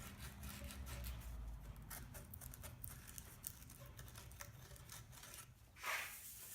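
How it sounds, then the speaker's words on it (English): Hand sanding of a wooden carve-top guitar body before finishing, heard as a soft, steady rubbing rasp with repeated strokes, fairly quiet and close, no talk. "A little bit of final sanding and then I'll be ready to start applying the finish."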